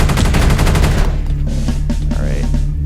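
Rapid automatic turret fire in Space Beast Terror Fright, a loud dense burst of shots for about a second, followed by quieter mechanical clicks and hum.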